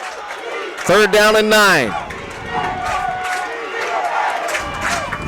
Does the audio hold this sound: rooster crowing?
no